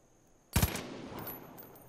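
A single loud, close gunshot burst from a weapon in Far Cry 5, sharp at the onset and followed by a trailing echo that fades over a second or so.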